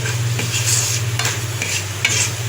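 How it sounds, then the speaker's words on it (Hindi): Steady sizzling of a spice tempering, dried coriander, cumin, bay leaf and round red chillies frying in hot oil, with a few sharp scraping stirs against the pan, close and continuous with no talk. "ये हमारा तड़का तैयार है, थोड़ा सा बस इसे भूनेंगे।"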